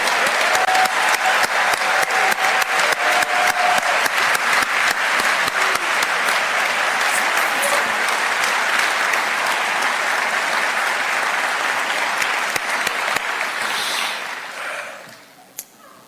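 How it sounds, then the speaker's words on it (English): Sustained crowd applause honoring police and firefighters at a civic event in Atlanta, loud and dense with scattered sharp claps, fading out near the end. "please give another round of applause"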